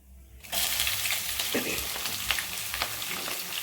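Tempering spices hit hot oil and splutter into a loud, sudden, continuous sizzle with scattered pops, close and without speech.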